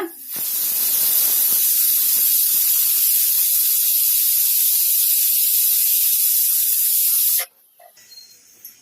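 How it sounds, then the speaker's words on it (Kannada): A loud, continuous high-pitched hiss of a pressure cooker venting steam for several seconds, then cutting off abruptly to quiet clatter. "ಕುಕ್ಕರ್ ಮುಚ್ಚಳ ಮುಚ್ಚಿಟ್ಟು ನಾಲ್ಕು ವಿಜಲ್ ಬರೋವರೆಗೂ ವೇಟ್ ಮಾಡೋಣ"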